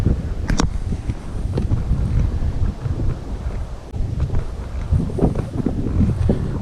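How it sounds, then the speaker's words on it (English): Strong wind blows outdoors, buffeting the microphone in loud, uneven gusts with a constant low rumble throughout. "the wind's really picking up now"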